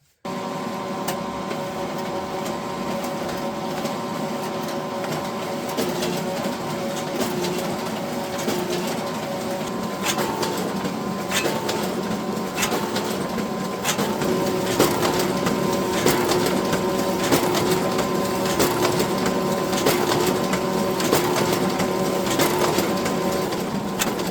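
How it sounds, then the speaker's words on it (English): A DS95i folder inserter machine runs continuously, folding and stuffing envelopes with a steady mechanical hum and repeated rhythmic clacks and rattles, close and fairly loud without talk. "basically we just need to press start now, put our envelopes in the other end, and then press start."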